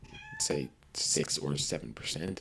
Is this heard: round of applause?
no